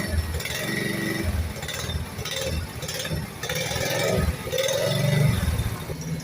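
A small Safari motorcycle engine runs close by at a motorcycle shop in Jaffna, Sri Lanka, putting out a rough, pulsing mechanical rattle with uneven revs and no speech.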